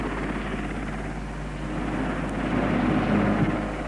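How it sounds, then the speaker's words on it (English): A helicopter delivering a new spire to Ashridge Business School in 1969 throbs steadily overhead. Its dense rotor and engine drone holds loud and constant and swells a little toward the end. "The chopper chunters away"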